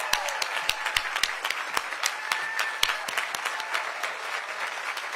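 An audience applauds at a teacher of the year award ceremony in South Carolina, with steady clapping from a moderate crowd continuing throughout and individual sharp claps standing out.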